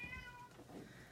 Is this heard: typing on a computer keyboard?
no